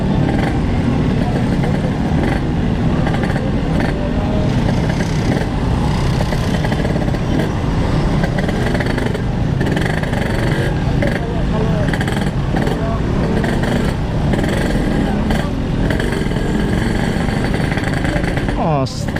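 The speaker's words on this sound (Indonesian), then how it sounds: "Astaga, macet guys." Motorcycles and cars idle and rev in a traffic jam, a dense, continuous mix of nearby engine noise with intermittent throttle blips, while people talk over it.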